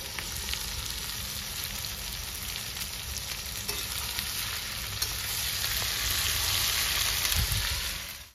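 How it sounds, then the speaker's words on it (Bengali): Okra (bhindi) fries in a pan for a curry, giving a continuous close sizzle with faint stirring scrapes and pops. "তবে ভেন্ডিগুলো দিয়ে দেবো।"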